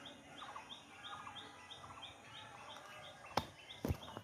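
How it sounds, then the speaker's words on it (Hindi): Birds chirping behind a house on a morning, repeated short high tweets in a steady pattern at moderate distance, followed near the end by two louder sharp clicks or knocks, with no talk. "आपको चिड़िया का आवाज़ भी सुनाई देता होगा।"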